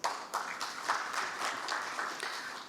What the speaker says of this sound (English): A hand clap to all of us.